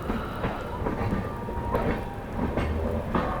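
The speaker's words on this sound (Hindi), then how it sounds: "तो फाइनली दोस्तों अपनी ट्रेन निकल चुकी है बरेली जंक्शन से भी" Garib Rath Express rolling out of Bareilly Junction on a foggy run, a steady rumbling rail noise with soft periodic clicks of wheels over track joints, continuous and moderately loud throughout.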